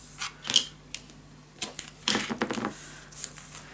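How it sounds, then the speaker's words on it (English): Adhesive tape is pulled off and pressed onto a paper craft box, giving short crisp ripping and tapping sounds in scattered bursts, close and fairly quiet, with no talking. "then you can close the gap with another piece of tape"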